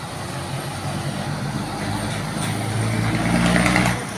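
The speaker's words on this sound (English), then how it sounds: "Big sugar cane lorry." A big sugar cane lorry passes on a main road in the Philippines, its heavy engine rumble swelling steadily as it approaches close by and then easing off, with a faint hiss near the end.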